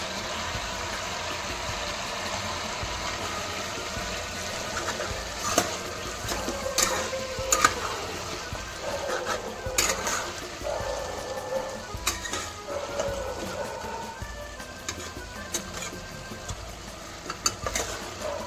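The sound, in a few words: ginger garlic paste added and cooking in the mutton curry pot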